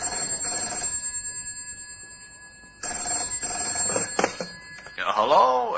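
A telephone rings repeatedly on an outgoing call in a radio comedy, with electronic tones steady in the background, then a voice comes in near the end.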